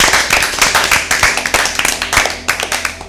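An audience claps for a team at an Easter Bible quiz, with steady, fairly close applause from several people, loud and continuous for a few seconds without talk.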